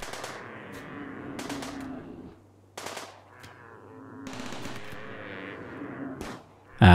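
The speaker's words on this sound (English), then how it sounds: "the turrets and of course the occasional pot shots from our colonists will do the rest." Turret and colonist gunfire crackles through a Rimworld desert hunt in the game, with rapid bursts of shots at mid distance separated by short pauses, plus a low steady hum underneath and no talk.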